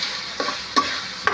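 Canned corned beef sautéing in a pan, with a faint sizzle and three short scraping stir strokes close by, no voices.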